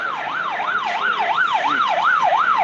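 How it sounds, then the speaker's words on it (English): A loud emergency siren wails in the street, rising and falling in a steady fast rhythm and holding on without a break, with no speech. "You can see everywhere alarm, siren. Everywhere siren."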